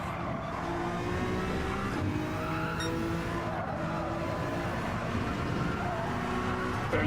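A race car engine roars continuously in the Gran Turismo 7 racing game, a dense sustained drone with shifting pitch and faint tire squeal, loud and unbroken throughout.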